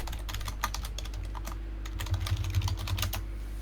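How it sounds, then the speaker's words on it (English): Rapid keystrokes clatter on a computer keyboard, a continuous stream of close, crisp taps over a steady low hum with no voices. "DM starts typing."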